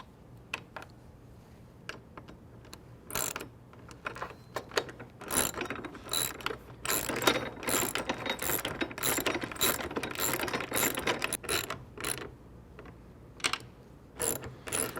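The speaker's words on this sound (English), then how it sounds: "we'll secure these again using the 4mm Allen and 10mm socket" Ratchet wrench with a 10mm socket tightening bolts while fitting a Bestop Trektop Pro soft top to a Jeep Wrangler JK, giving close, rapid bursts of clicking pawl sounds in uneven runs with short pauses between.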